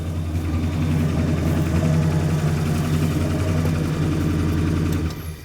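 Old Dodge Monaco V8 idling through a chambered muffler after years of sitting, a steady low rumbling drone held throughout before dropping away as it shuts off at the end.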